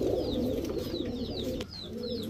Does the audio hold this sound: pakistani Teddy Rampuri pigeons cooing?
yes